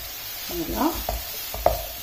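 Salmon pieces and leeks cooking in a pan, stirred a few times: soft scraping and light sizzle in short bursts, close and fairly quiet with no talk.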